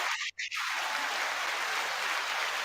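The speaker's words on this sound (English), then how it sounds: "Oh, the crowd's going wild." A crowd at a brewery during live NFL draft coverage applauding and cheering, a broad steady roar of clapping after a brief dip at the start, continuing evenly to the end.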